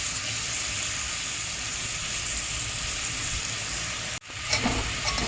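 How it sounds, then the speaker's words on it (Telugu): A handful of coriander leaves sizzling and frying in a pan for prawn biryani, a steady close hiss that cuts briefly near the end and then resumes with light stirring. "ఒక గుప్పెడు అయితే కొత్తిమీర వేస్తున్నాను. అది కూడా వేగాలండి."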